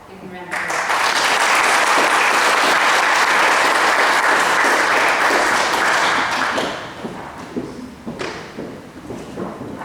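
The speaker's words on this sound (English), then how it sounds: "Give them a round of applause." Loud, sustained applause from an audience at a school presentation day for students, a dense wash of clapping that holds steady for several seconds, then thins out and tapers to scattered claps near the end.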